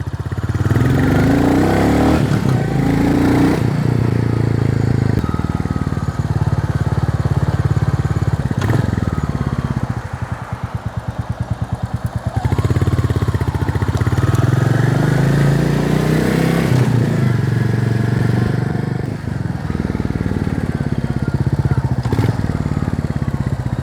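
Royal Enfield Goan Classic 350 motorcycle ridden in first gear, a steady loud engine drone that rises and falls as the throttle opens and eases, with a brief dip and wind noise.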